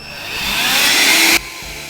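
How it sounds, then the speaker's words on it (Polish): A household vacuum cleaner runs loud and close, its whine swelling steadily before cutting off abruptly, followed by quiet room tone. "Odpalamy odkurzacz."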